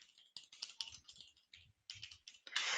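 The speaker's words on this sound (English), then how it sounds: "We can press F12 key on the keyboard to open browser" Keys on a computer keyboard clatter in an irregular run of close, crisp clicks and taps with no voices, closing with a louder, denser burst of keystrokes.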